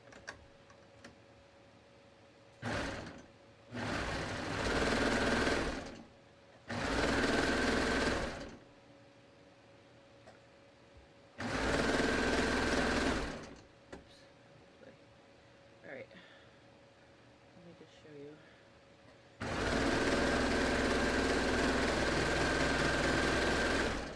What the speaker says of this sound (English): So let me just go ahead and sew this.